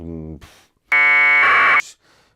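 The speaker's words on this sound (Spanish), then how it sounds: "Son dos pitidos, un pitido para el 0 y un pitido para el 1." A short bit of voice, then a loud electronic FSK modem beep that abruptly switches to a second, higher-pitched tone before cutting off; one tone for 0 and one for 1.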